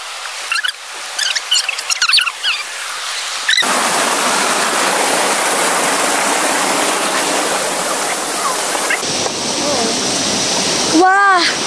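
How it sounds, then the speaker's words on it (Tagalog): Lumondo Falls in Barangay Budlingin, Alegria, Surigao del Norte roars as a loud, steady rush of falling water. It cuts in abruptly after a few seconds of voices and birdlike chirps, and talk returns briefly near the end. "We're very close na sa Lumundo Falls."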